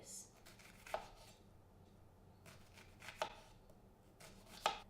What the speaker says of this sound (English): I'm going to just slice it really thinly because I don't like huge chunks of onion